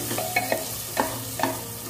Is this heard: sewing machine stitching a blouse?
no